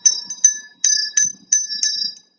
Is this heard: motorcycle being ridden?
no